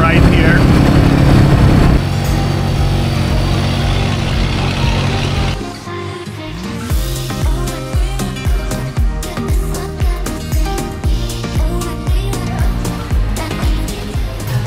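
A small motor tricycle engine drones loudly while riding, then shifts to a rougher, pulsing putter, with music and faint talk mixed in, on a road in the Philippines.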